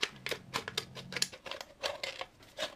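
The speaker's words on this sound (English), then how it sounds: "I'm going to take a pair of scissors" A series of crisp snipping and crunching sounds as scissors cut through a thin aluminum can, irregular and close, fairly quiet with no talking.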